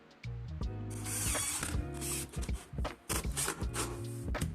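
A screw being driven into a wooden drawer during cabinet assembly, with a close mechanical whirring buzz in several short runs separated by brief pauses and no talking.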